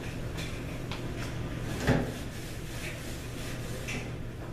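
A kitchen stove drawer is opened and shut during cleaning, giving one clear thud near the middle over a steady background hum, with faint lighter clicks around it.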